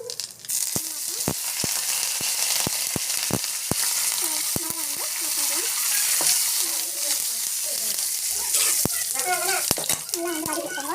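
Mustard seeds, chana dal, cumin and curry leaves sauté in a pan for tamarind puli kuzhambu, giving a steady close sizzle with sharp spatula taps and stirring scrapes at uneven intervals while a voice talks over it.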